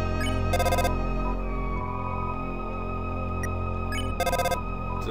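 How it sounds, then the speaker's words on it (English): A phone rings in the video game Undertale: two short bursts of electronic ringing, a few seconds apart, sound over a steady background of game music. "Answer the phone, mommy!"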